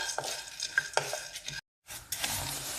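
Seeds dry-roasting in a pan for a ragi health mix, scraped by a spoon in quick scratchy strokes with a light sizzle, interrupted by a short silent gap before the stirring resumes.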